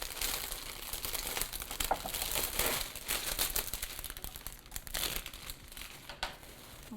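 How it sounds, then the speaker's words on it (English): Plastic wrapping crinkled and crumpled nonstop as a grocery store flower bouquet is pulled free, loud and close with bursts of crackling throughout. "We're going to take it out of its original packaging."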